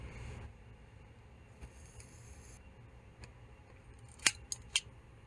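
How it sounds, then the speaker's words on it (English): Cutters snipping the salt-corroded wire ends of an aquarium pump: a few sharp, close clicks near the end, the first loudest, after a quiet stretch of faint background. "Then we're gonna cut them back a bit just to get rid of these corroded ends right here."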